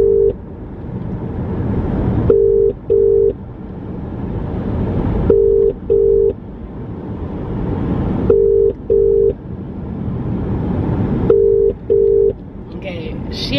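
An outgoing phone call ringing unanswered, with repeated paired ringback tones at steady intervals over a loud, continuous noisy background, heard through a phone line.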